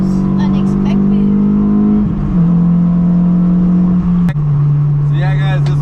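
A modified Honda S2000 holds a loud, steady engine drone while doing donuts, the pitch stepping down slightly twice with a sharp knock near the end, and a voice talks over it.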